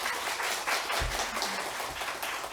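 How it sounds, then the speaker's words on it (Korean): Audience applause welcoming a lecturer at a hospital neurosurgery talk on brain aneurysms, steady broadband clapping from a crowd throughout, fairly close, with no speech. "그러면 큰 박수로 송승빈 교수님을 모시겠습니다"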